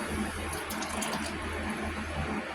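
Sour milk pours steadily into a mixing bowl in a home kitchen, giving a continuous close liquid splash and trickle with no talking.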